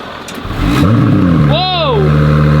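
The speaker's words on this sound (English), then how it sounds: "why don't we just get a cold start on this thing?" An Acura NSX fitted with an Fi exhaust cold-starts with a sharp rising rev that flares to a loud peak and settles into a high idle, close by, while voices react over it.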